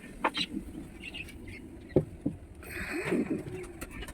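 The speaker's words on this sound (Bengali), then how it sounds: "দেখো এটা মুক্তি পায়রা" Lotan pigeons in a loft give soft, scattered coos and throaty burbles at close range, with a few short bursts and a longer warbling call near the end over a quiet background.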